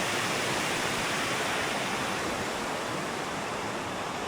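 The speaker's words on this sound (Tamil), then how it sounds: "அப்படியே அந்த பக்கம் ஒரு நல்ல குட்டி க்ரீக் ஃபால்ஸ் மாதிரி இருக்கு பாருங்க" Water from a small creek pours over a little waterfall in Australia's Blue Mountains, a steady, full rushing hiss that stays even and close throughout, with no voices.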